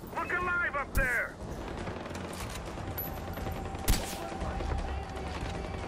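Gunfire rattles through a firefight in the video game Far Cry 4, with sustained bursts, a few sharp cracks and rumbling layered over dense battle noise, and voices are heard.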